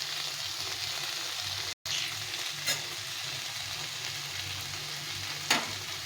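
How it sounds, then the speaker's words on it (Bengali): Fried potatoes and kabuli chickpeas are stir-fried in a pan with a close, continuous sizzle and occasional spoon scrapes, cut by one brief silent break. "আলুটা দিয়ে একটু আবার কষিয়ে নিই।"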